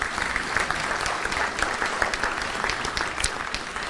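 Steady, dense applause from an audience at an annual association meeting, continuous and even in level throughout, with no voices rising above it.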